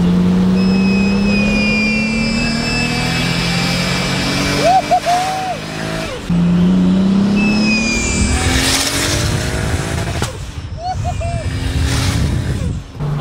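A Toyota Supra tuned to stage 3+ revs hard, its engine rising and falling in loud, close pulls with whining harmonics, a voice briefly over it.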